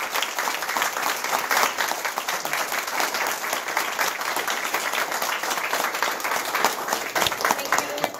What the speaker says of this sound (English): we should give all the candidates a round of applause.